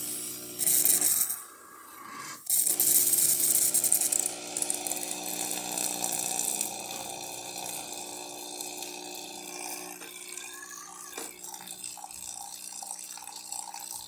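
A Breville Duo-Temp RM-800ESXL espresso machine dispenses hot water after a full service, a steady flowing rush with pump hum, briefly interrupted early on, then continuing evenly.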